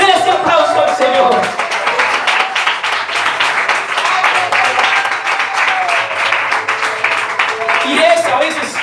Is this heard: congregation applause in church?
yes